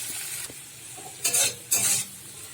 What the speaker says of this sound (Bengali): এই যে একটুখানি নুন দিয়ে একটু নেড়ে চেড়ে নিচ্ছি